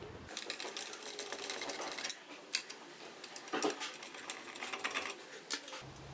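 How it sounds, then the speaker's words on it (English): Linesman's pliers trimming 8-32 screws during light fixture wiring, heard as a series of sharp metallic clicks and snaps at uneven intervals, close and fairly loud over a faint background hiss, with no speech. "I'm just going to use my pair of linesman's pliers and trim these down quite a bit."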